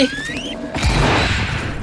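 A loud, booming nail bomb blast in the video game Dead Island 2 bursts in and rolls into a rumbling, crackling wash of debris, following a few synthetic game tones.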